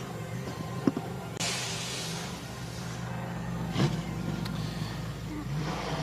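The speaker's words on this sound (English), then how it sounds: "the cars are now starting to make their way down to the pit exit" Race cars at Spa-Francorchamps during Michelin 12H qualifying roll toward the pit exit, engines droning and rising in a few revving surges at moderate distance, with a sharp knock near the start and background crowd murmur.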